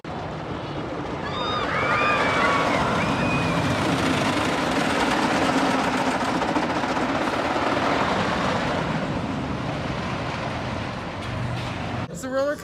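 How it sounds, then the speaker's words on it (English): A vintage wooden roller coaster ride at Lagoon gives a steady, loud rumble of wheels on track, continuous wind noise and a brief screeching whine early on, with voices mixed into the roar throughout. "the first ride of the day is actually gonna be the vintage wooden roller coaster"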